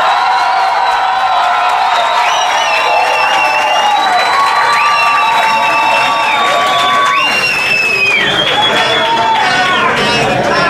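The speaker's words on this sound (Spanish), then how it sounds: "fuertes los aplausos para Camilo Cruz" A studio audience at a televised talent competition erupts in loud, continuous applause and shrill cheering and whistles, the crowd noise filling the space while a voice calls out over it.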